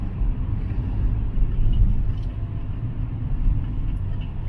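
A Renault Samsung QM6 diesel car drives along, its engine and road noise forming a continuous low, muffled rumble heard from inside the cabin that swells slightly midway, with no voices.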